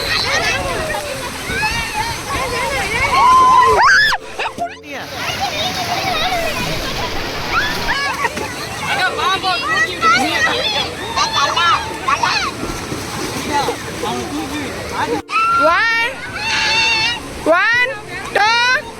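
Water splashing and sloshing as people play and swim at a summer day-trip spot near Pollachi, busy and continuous with voices talking and shouting over it, a few sharp splashes standing out.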